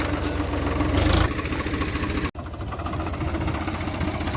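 A tractor engine idles steadily on a village road, its low mid-range drone holding level throughout, briefly louder around the first second, with a short dropout near the midpoint and no talking.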